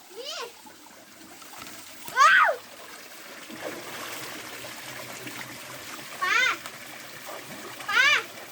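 Water from a waterfall behind a rubber plantation splashes and trickles faintly in the background, while bursts of high chirping voices rise above it now and then.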